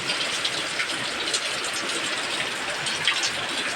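Steady, continuous rain falls without a break, a dense unbroken hiss of water that stays at an even level throughout with no voices.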